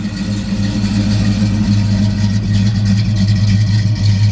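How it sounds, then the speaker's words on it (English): A 350 V8 in a 1969 Chevrolet Chevelle Sport Coupe with a 350 Turbo transmission runs steadily nearby, its deep, loud, even rumble holding without revving changes and with no talking. "Real reliable little 350 engine, you can't beat those."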